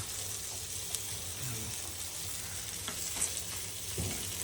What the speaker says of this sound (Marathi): तर आता एक साइड भाजली आहेत. आता दीपाली हे पलटी मारू घेता.